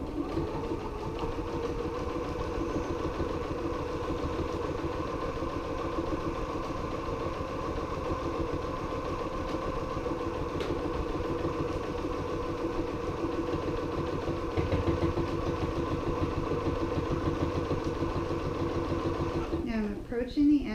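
A sewing machine runs in one long steady mechanical hum, stitching a mini patchwork binder cover, with a reverse stitch near the end and a faint voice beneath.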